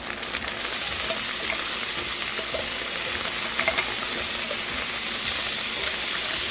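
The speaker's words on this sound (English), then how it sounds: "now I'm going to add 2 tablespoons of garlic to the pan." Garlic going into a hot pan sets off a loud, steady sizzle and steamy hiss that carries on throughout, close up and with no talking.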